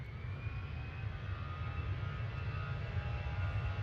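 A PIA Boeing 777 jet rolls down the runway on takeoff at Manchester Airport, a steady distant engine roar with a thin high whine over it.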